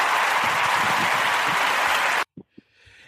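Applause welcoming a guest on an interview show, a loud, steady clapping burst that cuts off abruptly, followed by a few faint thumps and near silence.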